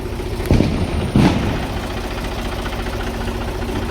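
A tractor engine idles in a steady, close, low rumble, with two brief louder thumps early on and no talking.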